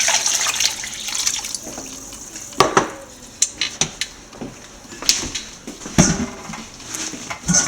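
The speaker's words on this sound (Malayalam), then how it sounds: "നമുക്ക് അതിൻ്റെ അകത്തോട്ട് കുറച്ച് തണുത്ത വെള്ളം ഒഴിച്ചു കൊടുക്കാം" Cold water poured from a tap into a pot of cooked rice, a loud running stream broken by several sharp metallic clanks of the pot, close by with no talking.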